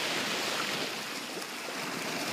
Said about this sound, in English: You can hear the waves in the background.